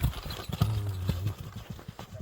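Hooves of a running horse clip-clop in quick, uneven beats on slippery ground, close and fairly loud, with a low tonal horse sound briefly rising in the middle.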